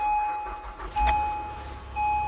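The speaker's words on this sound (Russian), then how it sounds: "Отлично завелась машина." A Toyota Crown Athlete car's engine starting with a key, preceded by a steady chime tone; a brief cranking burst catches into a low idle that settles, then rises slightly again.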